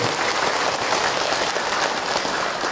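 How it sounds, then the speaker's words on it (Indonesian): Dense, steady applause from an audience at an Indonesian Islamic talk on family life, a continuous wash of many hands clapping with no pauses and no speech. "Tepuk tangan buat bunda yang bertanya."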